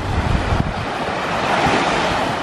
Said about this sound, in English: Just listening to the waves makes me happy.